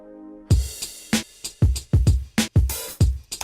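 Programmed beat drums arranged in Studio One into a sixteen-bar verse, with punchy kicks, snares and hi-hats in a steady looping pattern; loud and close after a brief soft intro, no speech.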